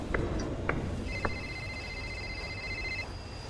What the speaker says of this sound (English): It sounds like there's a phone.